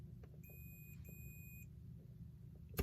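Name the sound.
electrical tester beeping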